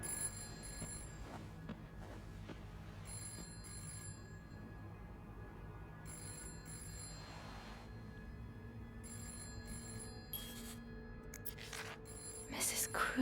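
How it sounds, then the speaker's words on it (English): A telephone rings in the game This Bed We Made, repeated electronic bursts of ringing spaced at steady intervals, faint over a low background hum with soft speech. "And the phone's ringing."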